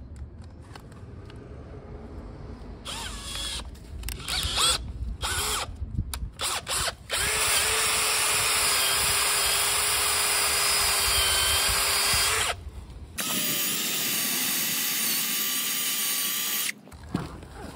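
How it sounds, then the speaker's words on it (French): A small cordless drill fitted with a scraping attachment whirs against a house facade, first in short stop-start bursts, then in long continuous high-pitched runs with scraping grit underneath. "si je gratte avec ça une petite visseuse, une perceuse"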